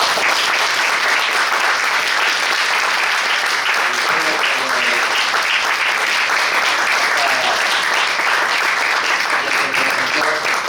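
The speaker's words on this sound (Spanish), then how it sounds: "agradecerte un aplauso a la presencia" Loud, sustained audience applause at a public forum on institutions, illicit markets and urban violence, dense continuous clapping filling the room for about ten seconds, with faint voices mixed underneath.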